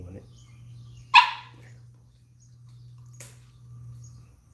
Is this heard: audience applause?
no